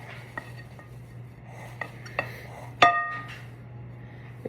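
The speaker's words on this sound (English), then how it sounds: "I've got my spatula, and I'm just gonna make sure it's all incorporated into the apples" A spatula works crumble topping into apple pie filling in a bowl, with soft scraping and a few sharp clinks against the dish, one louder knock near the middle, quiet and close.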